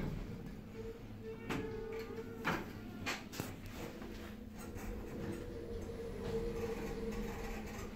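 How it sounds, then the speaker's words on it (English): Hotel passenger lift at the Grosvenor Hotel in Victoria travelling down between floors, a steady low mechanical rumble and hum with a few brief clunks and rattles, continuous and close. "Go down to four and G."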